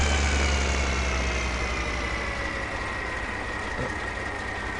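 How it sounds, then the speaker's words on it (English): A tractor engine idles steadily in a farming video game, a continuous low rumble with a faint whine, heard alone with no talk. "What we will do at the same time is we'll take this tractor here"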